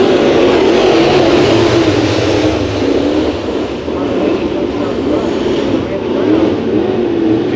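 Race cars at Santa Maria Raceway's dirt track accelerate from the green flag in a Nationals heat race, producing a loud, dense, continuous engine roar that swells and dips slightly, with an announcer talking over it.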